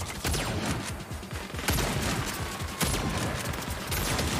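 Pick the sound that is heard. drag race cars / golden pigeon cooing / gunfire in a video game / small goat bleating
gunfire in a video game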